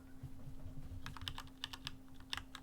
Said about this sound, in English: You can probably hear my keyboard, it's so loud